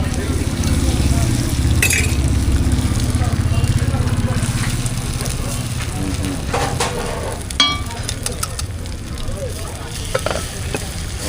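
A bread omelette fries on a food court griddle in Hassan with a loud, continuous sizzle, broken by scraping and tapping clatter from the cooking tools near the end.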